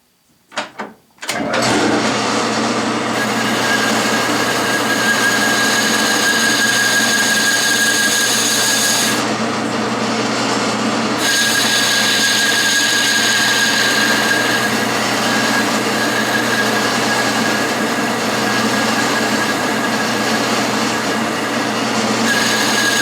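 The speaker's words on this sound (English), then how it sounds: "now I'm going to turn the step" A metal lathe turns a step on half-inch rod in a small workshop, a steady, loud mechanical hum and whir running continuously after a brief start, with faint shifts in pitch partway through.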